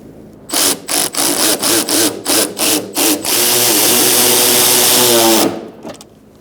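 A power tool with a 10 mm socket snugs fender and bumper bolts on a 2012-2017 Hyundai Accent, first in about eight short, even bursts, then one steady whir lasting roughly two seconds, close and loud.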